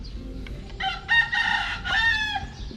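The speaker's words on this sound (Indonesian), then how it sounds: "Oh, di sini ada burung." A bird calling at a hotel in Batam: a loud, close, harmonic cry resembling a rooster crow, repeated in two drawn-out bursts over low background hum.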